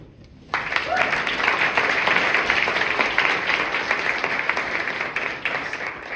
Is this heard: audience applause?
yes